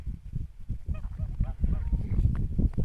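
Scattered domestic goose honks in short bursts over a rumbling, noisy outdoor background on snow, some calls nearer and clearer than others.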